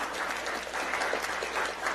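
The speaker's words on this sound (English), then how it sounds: "please give him a round of applause for being here today" An audience at a mayoral conference applauds Mayor Turner, dense continuous clapping filling the room for a couple of seconds without a break.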